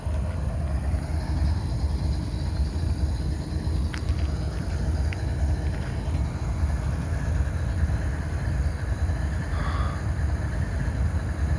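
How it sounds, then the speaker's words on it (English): A freight train climbs a hill in Abbeville, its steady low rumble and engine drone filling the scene without pause, with faint higher squeals and clanks drifting in from a distance. "I figure those guys will be getting off to do the roll-by inspection when that train comes by"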